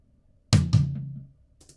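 A drum processed for extra punch in a mix hits twice in quick succession, each strike sharp and full, leaving a ringing decay that fades over about half a second.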